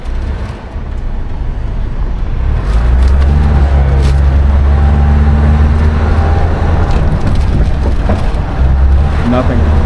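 A 2024-2025 fourth-generation Toyota Tacoma pickup rolls over a speed bump, with a steady, loud, low engine and road rumble heard from inside the cab.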